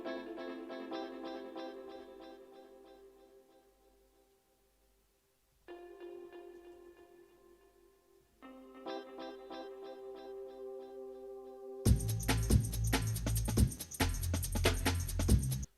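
A 140 BPM jungle track with a delay effect ramped up on its pads plays alone: layered chordal pads echo and fade, drop out briefly, then return before loud drums and bass crash in for the final seconds.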